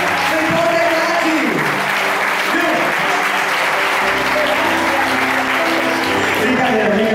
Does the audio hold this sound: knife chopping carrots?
no